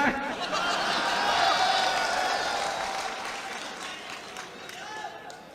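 An audience at a live poetry gathering breaks into sustained applause, dense clapping that swells early and slowly fades, mixed with scattered chuckles and murmurs from the crowd.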